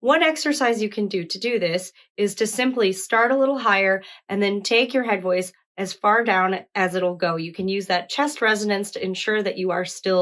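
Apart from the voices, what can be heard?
No distinct noise like a dog, phone or traffic.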